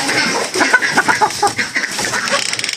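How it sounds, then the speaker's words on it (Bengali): Farm chickens on a flooded poultry farm cluck busily while being fed, a close, dense chorus of short overlapping clucks and squawks with no one speaking. "মুরগিগুলো"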